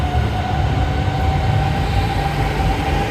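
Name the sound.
metro train arriving at Hanoi station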